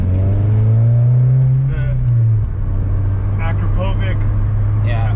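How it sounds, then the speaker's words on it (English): A Volkswagen MK6 GTI with a Stage 3 K04 tune revs through an Akrapovic exhaust, a loud, steady engine drone that rises and drops back, with people talking over it. "I love the way this exhaust sounds"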